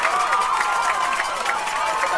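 A softball crowd cheering after a double play, a dense continuous roar of many voices and shouts in an outdoor stadium, steady and loud for the whole moment.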